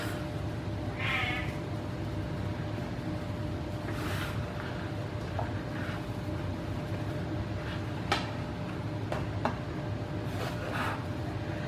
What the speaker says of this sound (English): You can just listen to my cat.